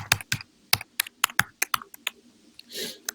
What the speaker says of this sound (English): you're typing like a demon